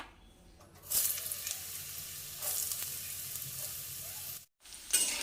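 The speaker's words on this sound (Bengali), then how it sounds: "ওই গরম তেলের মধ্যে আমি আলুগুলোকে দিয়ে দিচ্ছি" Potatoes sizzle as they go into hot oil in a wok. A loud hiss bursts up on contact, fades, swells again with stirring, drops out briefly and then flares once more, with no talking.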